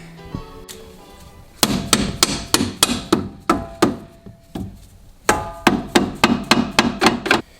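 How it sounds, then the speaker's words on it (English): Impact gun rattling loose the bottom bolts while lowering a Toyota Camry, firing in loud repeated short bursts, roughly a dozen sharp hammering blows in two clusters, close up with no talk. "I don't know why I haven't used this impact gun."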